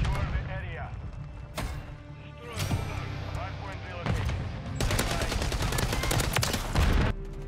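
Heavy gunfire in MW3 from a Holger 556, rattling in dense automatic bursts with sharp individual cracks, close and loud, with a voice talking beneath it.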